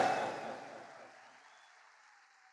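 Applause from a crowd at an RCM event in Delhi, a faint wash of clapping that starts at moderate level and steadily fades away, heard alone without talk.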